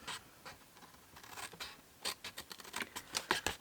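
Scissors snipping through paper scraps while mini gift boxes are made, a run of short crisp cuts and rustles that come quicker and louder toward the end, close by, with no talking.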